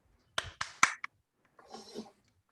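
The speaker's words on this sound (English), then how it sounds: "So with a big round of applause, let's welcome our very dear Distinguished Toastmaster" A few sharp, separate hand claps ring out at a Toastmasters youth leadership session, then a short patch of scattered, quiet applause from a small audience welcoming the next speaker. Everything stays soft and sparse.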